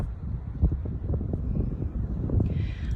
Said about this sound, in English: I think it's pretty windy.